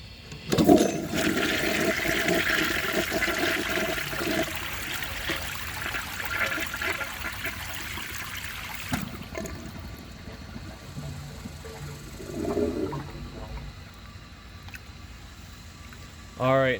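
A 1937 Standard Madbrook toilet flushing, with a loud rushing surge of water for about nine seconds that then thins to a quieter trickle and refill, with brief bumps of handling near the end.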